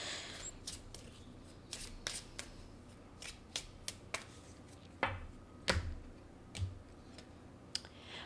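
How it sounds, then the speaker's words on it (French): Someone shuffles a deck of 27 cards, producing quiet, scattered snaps and riffling clicks at an irregular rhythm, close by and soft. "27 cartes, ça se brasse."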